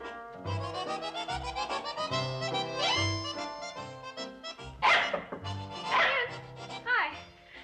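A dog barks repeatedly in quick yapping bursts close by, mixed with people talking over it throughout.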